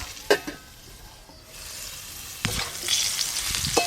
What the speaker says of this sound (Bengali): আলুগুলো একটু ভালো করে ভাজা ভাজা হয়ে গেল